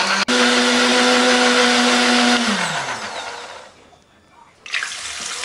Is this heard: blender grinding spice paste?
yes